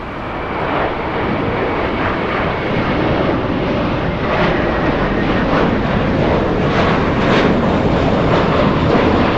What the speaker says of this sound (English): American 238 flying to JFK.